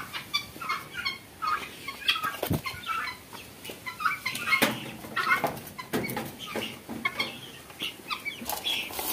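Guinea fowl at feeding time on a farm, a flock keeping up a busy chorus of harsh, clucking calls and scattered wing flaps, close and continuous.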